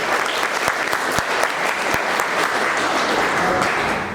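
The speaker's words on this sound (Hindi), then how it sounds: "इनके लिए नायक जी के लिए जबरदस्त तालियां" Audience applause at a motivational success event, a dense steady wash of clapping from a large crowd that holds at full level throughout, with a few sharper claps standing out.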